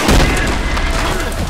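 Contact grenade blast in the shooter game Trepang2, a dense, loud booming roar with heavy low rumble that fills the whole short moment, with a voice talking underneath.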